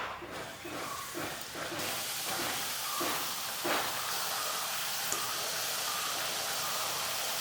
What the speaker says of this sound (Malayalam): ഇനി നമുക്കിതൊക്കെ വറുത്തെടുക്കാം.